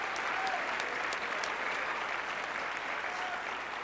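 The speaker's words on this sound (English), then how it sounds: "I'd love to give yourself a round of applause, guys." A fairly quiet crowd at the PlayStation Experience 2015 event applauds steadily for about four seconds. The clapping is an even wash heard from some distance, with no talk over it.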